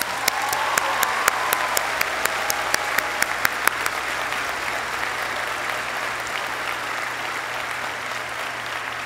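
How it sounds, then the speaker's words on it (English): Sustained applause at a 2017 Middletown High School graduation ceremony honoring graduating seniors, a steady wash of clapping from a large audience with a few sharper claps standing out early on. "Give them a round of applause."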